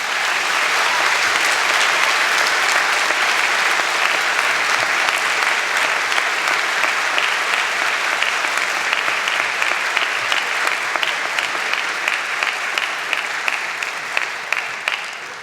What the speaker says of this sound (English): Graduates, a round of applause for the faculty.